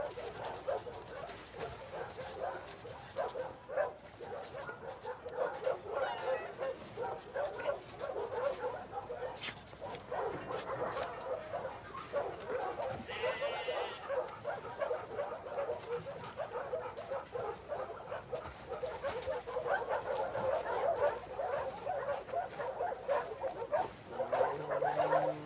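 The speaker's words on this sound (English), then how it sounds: "Hey, you crazy dog." A dog whimpers and yips in The Last of Us Part 2, with occasional short barks over a steady, fairly quiet background that lasts the whole stretch.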